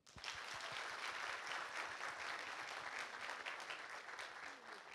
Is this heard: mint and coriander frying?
no